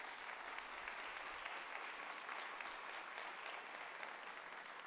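A church congregation applauds during a sermon, sustained dense clapping heard from a slight distance, steady and even throughout without voices.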